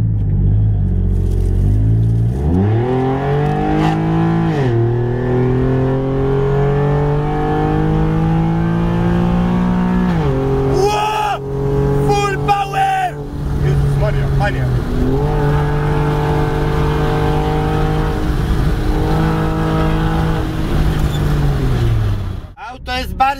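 A Nissan 370Z engine revs hard and loud up close, climbing and dropping through a deep, rumbling exhaust note for a sustained stretch, with a short blip in the middle.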